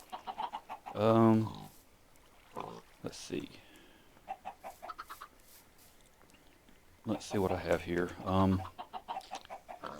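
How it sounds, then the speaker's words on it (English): Minecraft chickens cluck in short bursts near a fenced pen, with someone talking quietly between the clucks. "I got all my chickens back in the gate."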